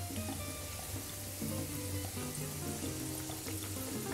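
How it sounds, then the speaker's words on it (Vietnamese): Shrimp cakes deep-fry in hot oil over medium heat, giving a steady, close sizzle with continuous crackling and bubbling that holds at an even level throughout, with no voices. "Tại vì mình sẽ chiên hai lửa đó"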